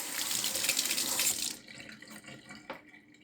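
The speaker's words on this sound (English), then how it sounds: "Let's rinse it off real quick." A tap runs hard for about a second and a half while a part from a 1971 Mustang instrument cluster is rinsed, then the flow stops and leaves a few drips and a faint clunk.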